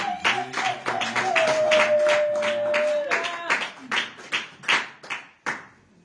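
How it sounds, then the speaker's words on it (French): A church congregation claps in a rhythmic, roughly steady beat while a sung or shouted voice carries over it, then the clapping thins into a few loud, spaced claps near the end. "Est-ce qu'on peut acclamer très fort pour la gloire de Dieu?"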